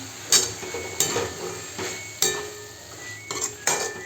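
Hyacinth beans and potatoes being mixed in a pan for a dry vegetable dish, a spatula scraping and clinking against the metal about five times at irregular intervals, close up, with faint frying underneath and no speech.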